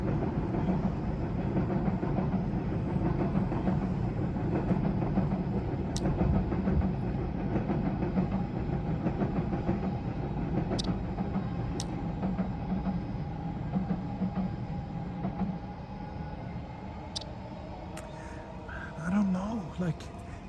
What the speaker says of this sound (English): there's a train coming here. Let's see if we can get a decent shot of the train passing the bridge here.